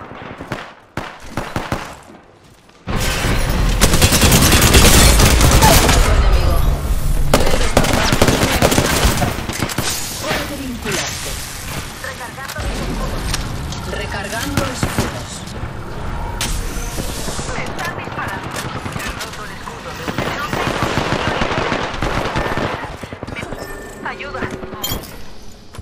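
Heavy gunfire in the battle royale game Apex Legends, long stretches of automatic bursts and single shots with booming hits, loud and close, mixed with game voices and chatter.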